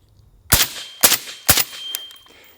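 Three sharp suppressed shots from an FN SCAR rifle ring out about half a second apart, followed by a fainter metallic ping from a steel target hit, close and loud with a short ringing tail.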